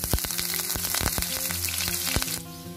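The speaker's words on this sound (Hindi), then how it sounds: "तेल गरम हो चुका है, थोड़ा जीरा डाल रहे हैं, तीन कटी हुई हरी मिर्च," Cumin seeds and three chopped green chillies sizzle steadily in hot mustard oil in a kadhai, a dense close frying hiss with crackles and pops throughout, easing off slightly near the end.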